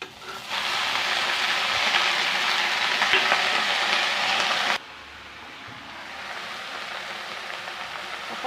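Moringa leaves and onions fry in a pan with a loud, steady sizzle that cuts off sharply midway, leaving a softer frying hiss.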